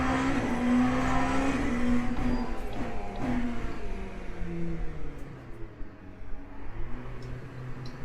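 Race car engine in Le Mans Ultimate while lapping an LMP2 prototype, a loud sustained drone that shifts pitch as the car runs, steady and close throughout.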